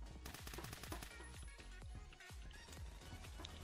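Rapid automatic gunfire rattles in Roblox Phantom Forces, dense strings of shots overlapping with game effects, continuous and fairly loud in the mix.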